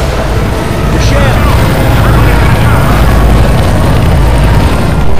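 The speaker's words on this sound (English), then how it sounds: "Oh damn, helicopter." A loud, steady roar of helicopter rotors and engine in Left 4 Dead 2 fills the whole stretch, close and constant, with no pauses.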